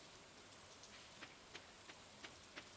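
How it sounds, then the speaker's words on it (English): Rain falls in the Stardew Valley video game, a steady soft hiss with faint, regularly spaced drop taps, quiet and without speech. "but of course it's raining"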